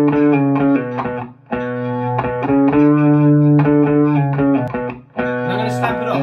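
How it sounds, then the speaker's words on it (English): Electric guitar through a distortion pedal plays a chugging riff of repeated chords with brief pauses between phrases, loud and close. "If I have a pedal, I stamp that on, that's my distortion or my gain."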